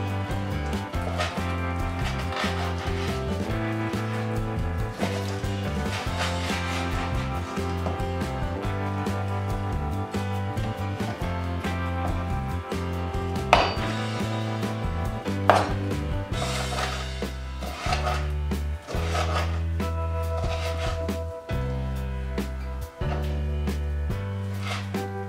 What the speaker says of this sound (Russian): Нарезаем сначала небольшими продольными полосочками, а потом режем их поперек.